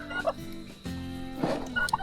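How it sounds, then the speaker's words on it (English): A turkey gobbles several times at a bush campsite in Queensland, its bubbling calls rising in short bursts at fairly close range with pauses between them, with other birds nearby. "turkey bird"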